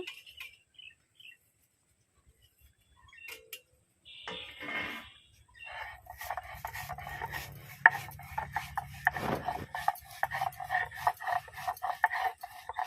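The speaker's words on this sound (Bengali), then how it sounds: "জিরে আর মৌরি ভাজা এবার গুঁড়ো করে নেব" Roasted cumin and fennel seeds being ground by hand on a stone grinding slab, a soft rasping, rubbing scrape that starts in short bursts and then runs steadily, close and fairly quiet.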